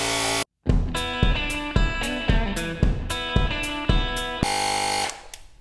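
Stop and Go motorcycle air compressor running to inflate a tire, a loud steady buzzing drone with a repeated pulsing beat of sharp thumps, starting after a brief gap and cutting off at the end.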